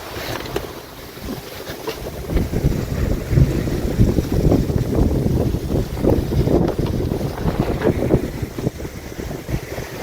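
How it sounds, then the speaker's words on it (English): Strong wind buffets a sailboat rounding a large headland in the Orkney and Shetland waters, a steady loud roar of gusts and microphone wind noise over rushing water, with no voices. "Kind of hard to sail when the wind's doing that."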